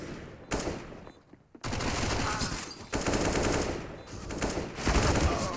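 Bursts of AK rifle fire in a Counter-Strike: Global Offensive match on the Inferno map, loud, close automatic volleys broken by short gaps, with a brief quieter lull near the start.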